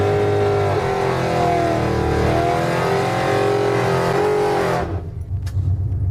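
A drag race car on nitrous launches at full throttle, a loud sustained engine roar holding for about five seconds before cutting off abruptly into near silence.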